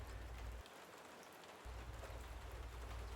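Steady rain falling on desert sand at night, a dense even hiss that stays constant throughout with no voices or thunder.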